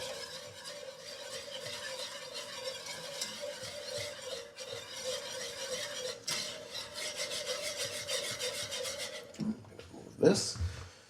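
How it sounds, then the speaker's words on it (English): A utensil stirs sauce for chipped beef in a pan, giving soft continuous scraping and rubbing strokes with a faint sizzle, fairly quiet, ending with a brief louder clatter. "There is really no shortcut around just a couple of minutes of stirring."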